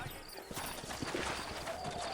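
Horse hooves clip-clop in a steady rhythm in the Red Dead Redemption video game, several hoofbeats close and clear under a faint background hum.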